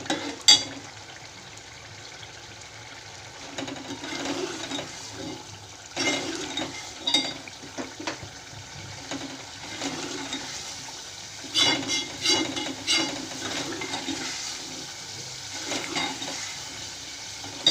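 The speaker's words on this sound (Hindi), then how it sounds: "ये अच्छी तरह मैं इसको भून रही हूँ।" Minced meat keema fries in a pan, sizzling continuously while a utensil stirs and scrapes it in repeated bursts, close and moderately loud with no talking.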